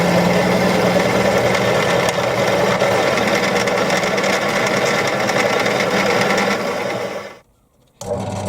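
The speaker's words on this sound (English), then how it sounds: "So I'll take it off and drill a hole through there." A lathe drills a centre hole into a metal part for a ball turning tool, giving a steady mechanical whir and hum that runs loud and even, then cuts out near the end before briefly resuming.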